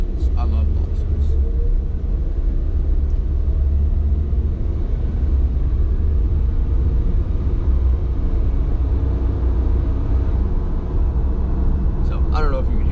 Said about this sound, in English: This car has the tiniest turbo I've ever even known of.